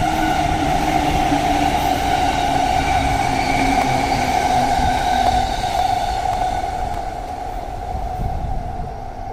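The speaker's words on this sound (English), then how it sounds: "I love the sound of the train." A train in Tokyo, between Omori and Gotanda, rumbles past in a steady, heavy roar that holds for several seconds, then eases slightly toward the end.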